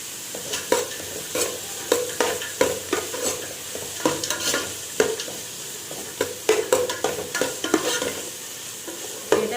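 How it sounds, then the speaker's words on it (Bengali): Onions and whole garam masala fry on high flame while being stirred, giving a busy sizzle punctuated by frequent close scraping strokes of a spoon against the pan. "হাই ফ্লেমে ততক্ষণ ভাজবো যতক্ষণ পেঁয়াজ থেকে একটা কাঁচা গন্ধটা না চলে যায়"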